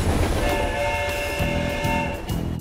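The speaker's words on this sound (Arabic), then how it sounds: "القطار يقترب من المحطة." A cartoon train rolls toward a station with a steady rumble and sustained horn-like tones, continuous and fairly loud, with no voices.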